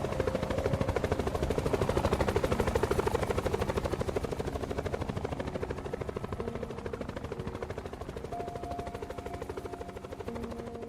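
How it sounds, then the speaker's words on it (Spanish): Military helicopter in the Roblox video game passes overhead with a steady rapid rotor chop, loud at first and slowly fading through the stretch, with a tonal engine whine and no voices. "se escucha pasar un helicóptero militar"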